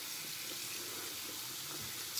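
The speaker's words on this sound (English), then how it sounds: "And then you're just gonna get some tepid, warm water." Tap running with tepid warm water into a sink, a steady, soft continuous stream heard alone at low level throughout.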